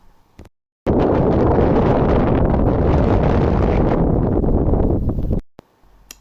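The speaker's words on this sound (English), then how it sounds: "Look at these clouds and listen to this wind noise." Strong gusts of wind buffet a microphone outdoors under gathering storm clouds during a metal-detecting hunt, a loud rumbling roar that starts abruptly, holds for several seconds and then cuts away to near quiet.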